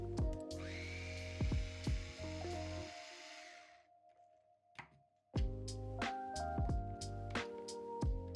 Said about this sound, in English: this time we're going to remove 3 of the lower screws to remove the upper bulkhead.